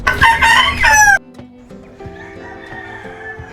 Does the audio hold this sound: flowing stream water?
no